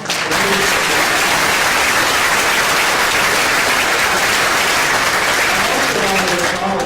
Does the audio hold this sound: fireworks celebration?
no